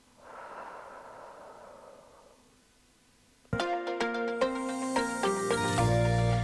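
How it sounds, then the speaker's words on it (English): Slow, deep belly breath during a lymphedema abdominal exercise, a soft drawn-out exhale that fades, followed by a sudden burst of loud music with sustained tones. "So 1 more big belly breath"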